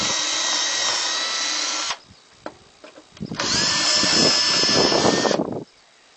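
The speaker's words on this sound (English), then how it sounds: "So I'm going to drill, I'm going to countersink for my screws." Power drill countersinking screw holes in wood, two sustained high whirring bursts separated by a pause with small clicks and handling knocks, close and loud.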